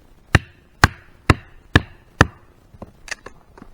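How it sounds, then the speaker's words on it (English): Five sharp, evenly spaced chops as a log is split for a fire, likely with an axe through wood, loud and close, followed by several lighter knocks and taps of wood settling. "Maybe try to split a flat end off of this one,"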